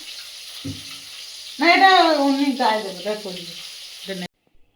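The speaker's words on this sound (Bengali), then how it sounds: "তো আমার তো মাছ ভাজা কমপ্লিটই হয়ে গেল বড় বড় মাছ" Large pieces of fish frying in a pan, a loud close sizzle that surges and then fades away, with a voice talking over part of it.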